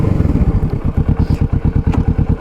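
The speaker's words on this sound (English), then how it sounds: "can you hear it? In the way, it sounds like a cruiser" Kawasaki Vulcan S 650 motorcycle engine running close by, a loud, even, throbbing cruiser-style pulse with a steady rhythm and no talking.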